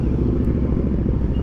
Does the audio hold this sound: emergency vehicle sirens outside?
no